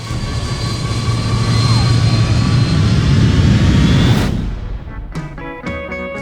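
Airliner in flight in the film Flight, a loud sustained jet engine roar filling the cabin that fades into sharp electronic alarm tones near the end.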